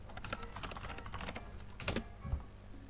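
Rapid clicking of keys on a computer keyboard as a password is typed at a Linux terminal, a quick irregular run of close, light taps with a couple of firmer presses near the end.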